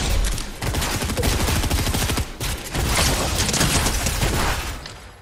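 Rapid gunfire rattles in a squad shooter game, dense overlapping bursts from several weapons, loud and close, nearly continuous with a couple of brief gaps.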